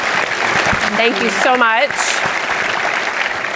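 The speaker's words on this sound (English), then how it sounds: "I want to give these guys a round of applause." Audience applause at an admin panel during a family reunion event, a steady broadband wash of clapping throughout, with someone briefly speaking over it near the start.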